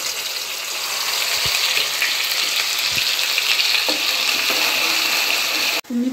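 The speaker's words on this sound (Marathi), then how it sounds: "तुम्ही पाहू शकता मसाला हा पूर्णपणे छान फ्राय झालेला आहे" Ground masala paste fries in hot oil in a kadhai, producing a loud, dense, continuous sizzle with occasional stirring scrapes, cut off by a brief knock near the end.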